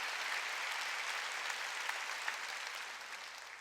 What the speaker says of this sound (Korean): 깨닫는 사람만 박수.